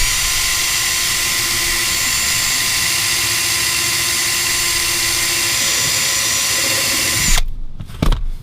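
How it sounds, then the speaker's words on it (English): A power drill whines at a steady high pitch while boring a pilot hole in a rear diffuser bumper tab on a Dodge Charger Hellcat, loud and continuous before stopping abruptly with a few short bursts. "So now we've made the initial pilot hole"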